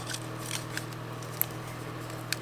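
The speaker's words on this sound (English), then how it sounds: "let's take my handy little tiny blade for doing this kind of intricate cut" A small craft blade cuts intricate paper with faint, sparse scratchy strokes and a couple of tiny sharp clicks over a steady low hum, with no talking.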